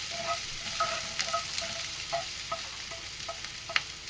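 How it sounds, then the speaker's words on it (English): Onion and chilies frying in a pan, a soft continuous sizzle with light spatula taps and scrapes scattered through, moderately quiet and close, with no voices. "mix them well"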